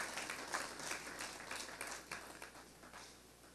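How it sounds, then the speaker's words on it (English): An audience gives a steady round of applause at an evening public service celebration. The clapping is moderately distant, dense and continuous, and fades slightly toward the end. "Give each and every one of them a big round of applause."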